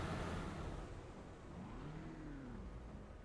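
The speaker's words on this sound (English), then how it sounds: "that car behind him revving" In the truck simulator TruckersMP, a car engine revs up and down in rising and falling sweeps, heard at moderate distance over a continuous road rumble.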